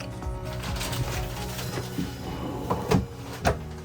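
Large storage drawers being pulled open in a new Brinkley RV, a couple of soft sliding thumps and clicks over a steady interior background hum.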